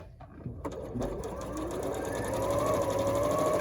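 A sewing machine stitches a quilt block for a Schoolgirl Sampler quilt. After a brief start it runs up to a steady, fast, continuous whir close by, with no talking.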